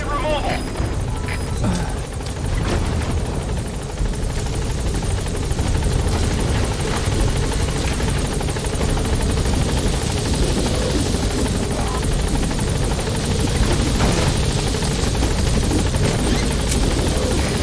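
Helicopter from the Metal Gear Solid video game lifting off, a loud continuous rotor drone and engine roar filling the scene with steady intensity, while radio voices talk over it.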